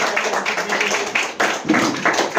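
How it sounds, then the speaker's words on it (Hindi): A crowd claps steadily for a couple of seconds, with dense, overlapping hand claps from an audience close by. "एक बार जोरदार तालियां मेहनत जी के लिए"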